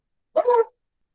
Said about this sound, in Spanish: Él siempre da gracias por sus alimentos y entonces se pone a ladrarle a la comida